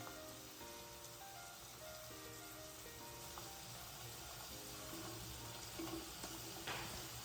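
Browned onions frying in a pan give a soft, continuous sizzle and faint crackle, quiet and steady, with a few light clinks near the end.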